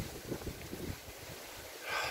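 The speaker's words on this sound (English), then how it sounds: "It's pretty windy out." Steady outdoor wind rushes and buffets the microphone near a garden with an oak tree, a low continuous roar with a gust swelling at the end, no one speaking.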